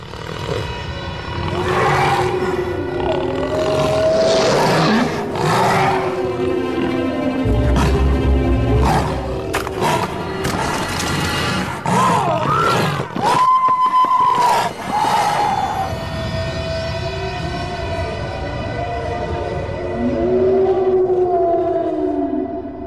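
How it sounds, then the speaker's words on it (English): Wolf howl from the game Shadow Wolf Mysteries: Bane of the Family, long loud tonal howls rising and sliding over a busy game soundscape of roaring swells and layered effects, with no talk. "they did improve the wolf and the howl from last game"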